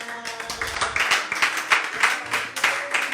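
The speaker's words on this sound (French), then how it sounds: "On acclame le Seigneur." A church congregation applauding the Lord, with steady rhythmic clapping from many hands, fairly close, mixed with sustained musical tones and voices.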